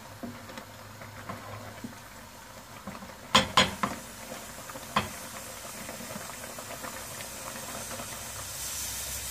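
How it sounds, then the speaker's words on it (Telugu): Basmati rice boiling in a pot, a steady steamy hiss with a cluster of sharp metal clinks from a utensil against the pot partway through, then the simmer continues alone. "ఇక్కడ అన్నం ఉడుకుతూ ఉంది"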